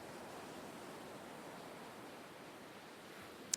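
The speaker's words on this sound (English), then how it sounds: "Oh, she was listening to some white noise." Soft steady white noise playing inside the video game Perfect Tides Station To Station, an even, faint wash of hiss with no rhythm or change, ending in a tiny click.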